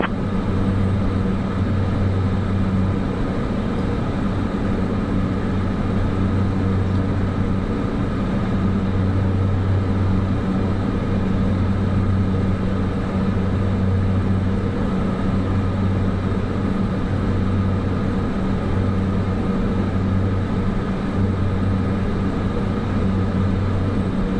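Steady, loud drone of an airliner in Microsoft Flight Simulator 2024, a constant low engine hum running evenly throughout with no voices.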